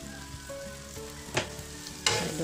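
Zucchini pasta sauce with basil and parsley being stirred in a pan, a steady low sizzle with a few sharp scrapes and clacks of the spoon against the pan, fairly quiet and close.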